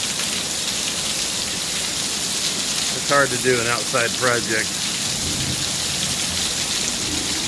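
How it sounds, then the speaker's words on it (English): Steady heavy rain pours down during a Florida summer thunderstorm, a dense constant hiss that fills the whole clip, with someone speaking briefly over it near the middle. "And thunderstorms, and we've really had some terrible weather."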